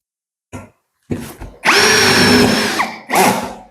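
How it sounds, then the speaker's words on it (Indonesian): A Lucid LX-60 cordless drill drives a roofing bolt in short bursts, first a couple of quick pulses and then a loud sustained whine that bites into the material, followed by one more brief burst up close. "Untuk pemasangan baut roofing ini sangat mudah"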